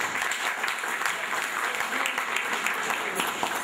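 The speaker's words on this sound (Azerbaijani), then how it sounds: "gəlin fədakar ziyalılarımızı ürəkdən alqışlayaq" An audience at a celebration gathering applauds honoured guests, dense sustained clapping from many hands that stays steady throughout, moderately loud and without voices.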